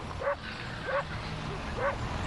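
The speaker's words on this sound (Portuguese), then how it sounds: "Por que esse cachorro não para de latir?" A farm dog barks over and over from a short distance, three sharp yipping barks at regular intervals against a steady outdoor background hum.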